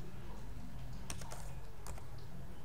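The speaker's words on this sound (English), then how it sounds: "go to your browser and type the IP address, MTN router IP address" Quiet computer keyboard typing as a router IP address is entered, a short cluster of quick key clicks near the middle, close and soft over a low room hum.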